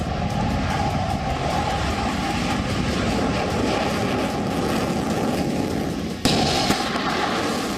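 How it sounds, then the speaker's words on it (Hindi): Taiwanese F-16B fighter jet armed with missiles flying during a military drill, a loud continuous broadband roar that holds steady throughout, with a sharp burst near the end. "ताइवान का ये सबसे आधुनिक फाइटर जेट उसकी मिलिट्री ड्रिल का हिस्सा है।"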